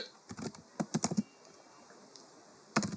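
Computer keyboard being typed on while writing an SQL query, a quick burst of close, light key clicks followed by a pause and a few more taps near the end.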